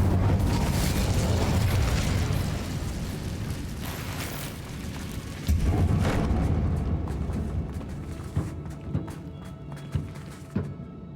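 A fire spell cast in a video game bursts into a loud, sustained roaring blast with rumbling booms, tapering off toward the end with a few sharp pops.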